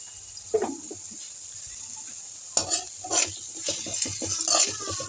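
Onions and green chillies frying in oil with salt and turmeric for an egg curry, a steady soft sizzle broken by bursts of stirring and spoon scraping against the pan, close and fairly quiet.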